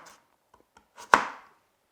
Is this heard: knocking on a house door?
no